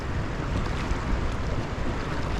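Water and boats in the sheltered harbour of Porthclais, Wales, heard as a steady, even wash of broadband outdoor noise with no distinct events, fairly loud and continuous, with no voices.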